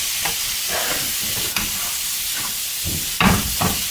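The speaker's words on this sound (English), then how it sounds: "You want to keep mixing so that nothing sticks to the bottom." Tinga Poblana being stirred in a pan after vinegar goes in, with a steady sizzling hiss and a few scraping strokes of the spoon, close and without talk.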